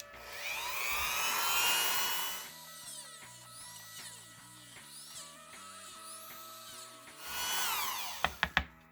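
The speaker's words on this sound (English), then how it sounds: "I'm cutting a dish out around the opening for the ball socket to countersink the O-rings into." A rotary tool cuts a countersink dish around the ball-socket opening of a custom action figure head for O-rings, a close high whine shifting in pitch as it bites, then slowing, ending in a few sharp clicks.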